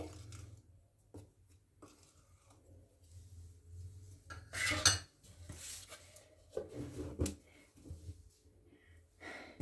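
Chicken being mixed by hand with salt, black pepper and chicken powder in a bowl, with soft intermittent clinks and scrapes of dishes and utensils, some louder knocks and light breathing close by.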